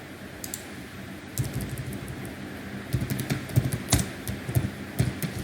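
Computer keyboard typing during data entry in a Microsoft Excel spreadsheet, heard as scattered clusters of soft key clicks at close range that grow busier in the second half, with no talking.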